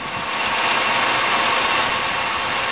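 A 1997 Chevrolet Malibu with the 3100 V6 idling just after a cold start, a steady close engine drone with a dense, rattly texture suggesting piston slap, running alone without talk.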